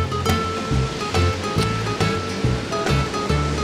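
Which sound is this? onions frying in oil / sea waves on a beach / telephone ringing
sea waves on a beach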